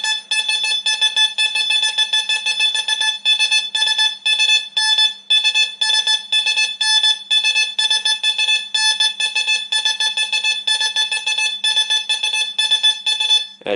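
Metal detector being swept rapidly over a target, emitting loud, rapid, repeating high electronic tones in short pulsed bursts that continue steadily with brief gaps, close and alone.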